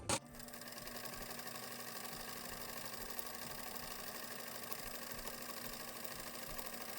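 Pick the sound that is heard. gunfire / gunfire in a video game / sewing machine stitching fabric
sewing machine stitching fabric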